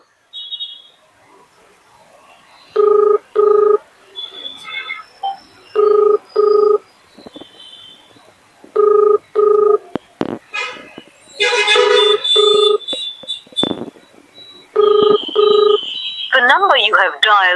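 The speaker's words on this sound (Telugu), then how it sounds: "ఆర్టీఓ లిఫ్ట్ చేయట్లే రెండు సార్లు ఇప్పటికే చేశాను" A phone line rings repeatedly with paired tones separated by pauses and no answer, while a person talks over it and some clatter occurs near the end.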